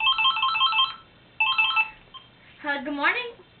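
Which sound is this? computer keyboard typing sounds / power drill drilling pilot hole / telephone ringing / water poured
telephone ringing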